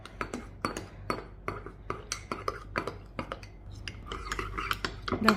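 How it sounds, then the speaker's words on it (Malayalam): Spoon stirring custard powder into two cups of milk, quick rhythmic clinks and scrapes against the bowl, close and fairly quiet, with no talking. "അതിലേക്ക് 2 ടേബിൾ സ്പൂണ് കസ്റ്റാർഡ് പൗഡർ ഇട്ടിട്ട് ഒട്ടും കട്ടയില്ലാതെ മിക്സ് ചെയ്തെടുക്കുക"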